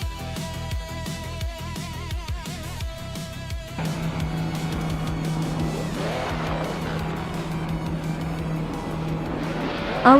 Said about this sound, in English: the race kicks off at Bridgehampton, and leading the pack is DJ Magchat in a vintage 1959 Aston Martin DBR 4250